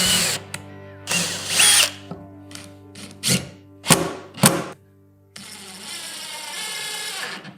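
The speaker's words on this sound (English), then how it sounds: "we're gonna take a countersink bit right here on my drill. I'm just gonna drill 4 holes." A power drill fitted with a countersink bit bores four holes in birdhouse wood, heard as a run of short, close, whining bursts, followed by a steadier mechanical hum.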